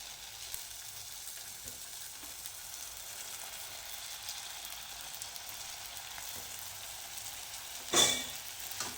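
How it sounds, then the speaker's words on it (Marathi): Puris deep-frying in hot oil for homemade pani puri give a steady, soft crackling sizzle throughout, with a brief louder burst near the end. "तेलामध्ये ह्या पुऱ्या टाकून तळून घेऊया"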